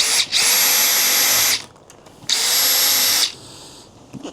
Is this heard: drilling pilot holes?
yes